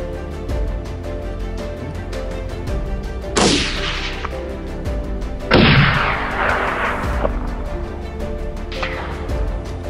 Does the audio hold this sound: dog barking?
no